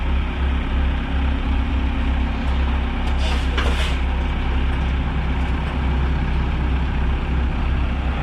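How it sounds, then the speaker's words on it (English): A dump truck runs at a small-lot house demolition site, its deep engine rumbling steadily and close, with a brief hiss of air midway as it pulls off. "Uh-oh, the new truck not gonna start?"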